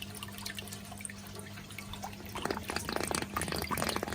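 Water draining back out of a full grow bed in a hydroponic flood and drain system fed from fish tanks, a steady trickle and splashing that grows busier and louder after a few seconds over a low pump hum.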